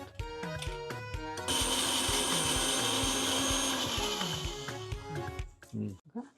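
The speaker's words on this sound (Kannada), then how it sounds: "ಇದನ್ನ ಮಿಕ್ಸಿ ಮಾಡ್ಕೋಬೇಕು." An electric mixer grinder whirs through a spice mixture of ground cumin, coriander and turmeric. A few sharp clicks come first, then the motor runs in a loud, steady whine for about four seconds before it winds down and stops.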